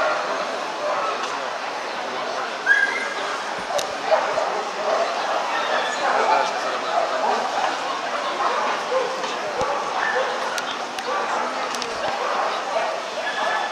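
Italian Greyhounds yip, whimper and bark in short, scattered bursts at a European dog show in Paris, amid the busy murmur of a crowd, with people talking nearby throughout.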